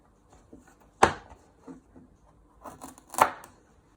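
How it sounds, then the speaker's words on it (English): A sharp kitchen knife chops the ends off turnips, giving two distinct crisp thunks on a board with softer taps and handling noises between them in a quiet room. "You first chop your ends off with your sharp knife."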